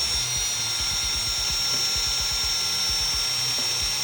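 A power drill runs steadily on a home-brewing day, its bright whine held constant over a fast, rhythmic low chug, close and continuous throughout.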